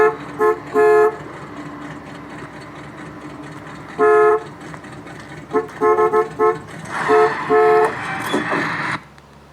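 A car horn honks in short bursts in a scene from the film Christine, several quick toots and a couple of longer blasts, fairly close with a faint engine hum beneath.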